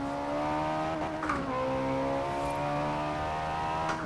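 A Ferrari 458 Italia engine in the Forza Horizon 4 video game, a steady, loud, high-pitched hum at constant revs with slight pitch shifts.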